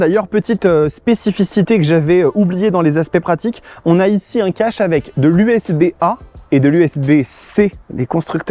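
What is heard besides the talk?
No everyday noise stands out behind the speech.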